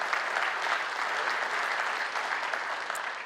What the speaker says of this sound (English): we could clap for that